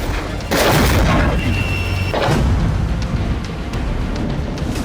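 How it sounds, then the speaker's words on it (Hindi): A loud, close explosion from a Russian drone strike on a Ukrainian port booms out and rumbles on for a couple of seconds, with a second blast following and a lingering roar after. "जोरदार धमाका हुआ।"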